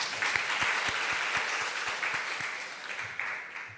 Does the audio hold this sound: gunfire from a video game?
no